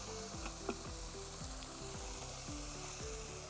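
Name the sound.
water added to frying spice paste for chitol fish curry, sizzling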